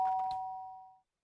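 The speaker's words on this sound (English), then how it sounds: "Ding dong. Sharp door banging ring sound." A doorbell ding-dong from the Danganronpa video game rings once, two clear tones sounding together then ringing out and fading over about a second, alone with no talk.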